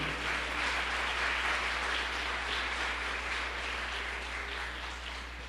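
A church congregation applauding during a service, sustained rapid clapping from many hands at moderate distance over a low steady hum, fading slightly near the end.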